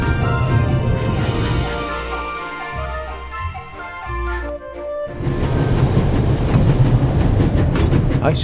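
A train running at full speed in the video game The Raven Remastered, a loud, steady rumble of wheels and carriage rattle with clattering rhythm, briefly dipping before surging back even louder.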